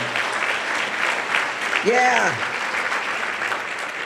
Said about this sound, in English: let's give another round of applause to the elected officials in the room